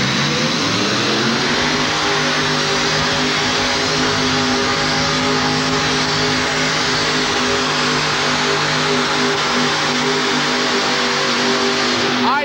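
Pulling truck at a 1989 truck and tractor pull in Worcester, MA, its engine roaring loud and sustained as it revs and climbs in pitch, with crowd noise underneath.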